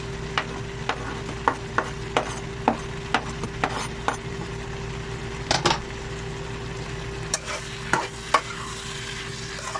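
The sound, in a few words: stir-frying chopped capsicum in mixed vegetables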